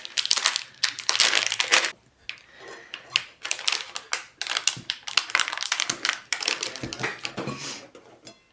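A block of cheese is shredded on a grater, a series of quick rasping scrapes in irregular bursts with brief pauses, close and crisp.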